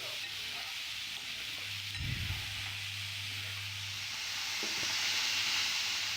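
Chopped snake gourd sautés in a pan for a Tamil poriyal, giving a steady soft sizzle and hiss. A brief stir-scrape sounds partway through and a low hum runs underneath, with no voices.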